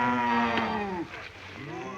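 Cattle low in a couple of drawn-out, wavering moos that slide in pitch, moderately close and alone without any talk.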